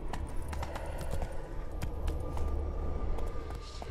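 Horse hooves clip-clopping in the video game Witcher 3, a steady rhythmic clatter over a constant low rumble of wind or ambience, close and continuous.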